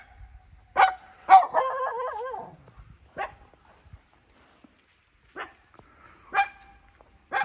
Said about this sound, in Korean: 뭘 보고 짖고 있니?